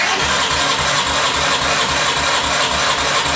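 A 1982 Honda CX500 Turbo engine cranks over at wide open throttle with the clutch in during a compression test, a loud continuous rhythmic churning of the starter with no firing.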